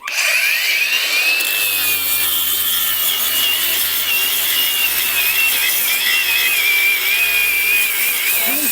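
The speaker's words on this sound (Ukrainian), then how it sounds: "пробуємо придавить нормально зачисним диском болгарку на третій швидкості" A Grosser GAG 120KB cordless angle grinder on third speed whines loudly as its grinding disc bites into material under pressure, a steady high-pitched grinding with slight wavering pitch under load.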